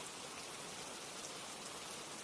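Rain falls steadily in an even, hissing patter of countless drops, soft and continuous throughout with no voices or other sounds.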